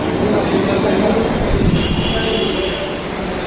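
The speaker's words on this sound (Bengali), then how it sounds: "তো এখন আমরা বসে আছি আদ্রা স্টেশনে, ওয়েট করছি আমাদের ট্রেনের জন্য" A train at Adra railway station platform: a loud, steady rumble of rolling cars with faint wheel squeal, close by and continuous throughout.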